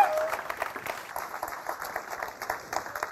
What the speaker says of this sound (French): tonnerre d'applaudissements pour Gaël